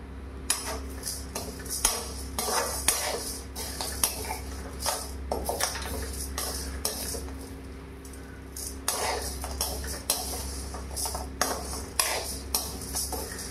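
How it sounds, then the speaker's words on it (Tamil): Dry lentils being roasted in a pan while making South Indian sambar powder, with a steady run of light scraping, rattling and ticking as they are stirred, close by and fairly quiet, with no talk. "பருப்பு நான் இங்கே வறுத்துன்னு இருக்கேன்"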